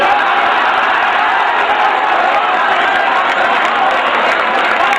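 Dense, steady applause with cheering and whoops from a large audience at a mushaira poetry recital, a loud continuous crowd roar holding evenly throughout without a break.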